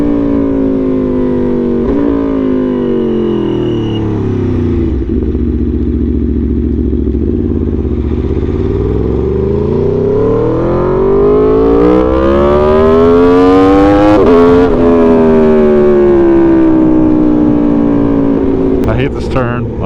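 Aprilia Tuono V4 motorcycle ridden on a road, its engine a loud continuous drone that drops and rises in pitch through the shifts, heard close throughout with wind.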